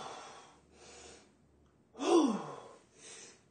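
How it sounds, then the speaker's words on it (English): Heavy breathing from a person resting between sets of home exercises, a few loud gasping breaths in and out with short pauses between them, close and alone. "So I take a couple of breaths."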